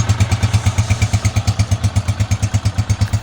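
A restored 2010 Honda CG125 motorcycle engine runs close by in a rhythmic, thumping single-cylinder idle, each pulse evenly spaced and loud, with no voices over it.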